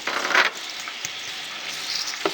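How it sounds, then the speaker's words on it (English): Onion sautéing in a hot pan for a Sudanese chicken gizzard dish, a loud continuous sizzle with a few brief scraping or clattering touches, no talking. "I'm gonna put the onion, and then we're gonna start saute our onion."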